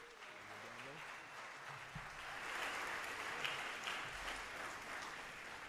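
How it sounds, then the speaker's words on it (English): An audience at a high school percussion concert claps in a steady, sustained round of applause. It swells slightly midway, with a brief voice at the start. "Let's give him a round of applause."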